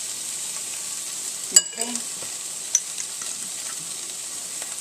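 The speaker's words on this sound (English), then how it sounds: "I'm going to mix that up a little bit so that everything gets a little bit of hot sauce on it" Shrimp and pasta stir fry with hot sauce sizzles softly in a pan, with a sharp clatter of a utensil and a few light scrapes as it is stirred, and a brief spoken word.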